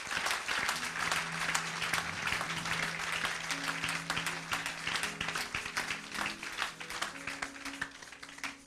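Church congregation clapping together in praise, a dense continuous patter of many hands with sustained musical tones beneath, fairly distant and steady throughout.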